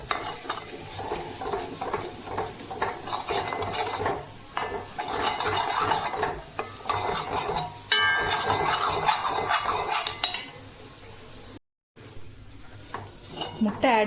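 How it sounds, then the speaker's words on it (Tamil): Egg sautés in a pan for egg kothu chappathi, with busy metal scraping and stirring and clanks of a utensil against the pan over a soft sizzle. A short dropout interrupts the sound near the end. "முட்டை ஆட் பண்ணிவிட்டு நல்லா வதக்கி விட்டுக்கோங்க"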